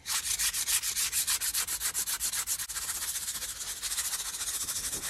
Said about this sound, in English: Just give it a nice sand to it.